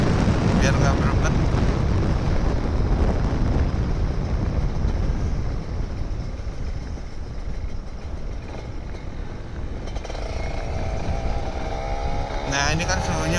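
A two-stroke Kawasaki Ninja RR 150 motorcycle revs hard on a rainy morning ride, its buzzing engine and strong wind rush loud throughout, easing slightly midway before picking up again, with a voice talking over it.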